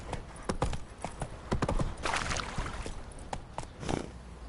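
Horse hooves clip-clopping at a steady gait in a video game, close and fairly loud, with faint background game ambience.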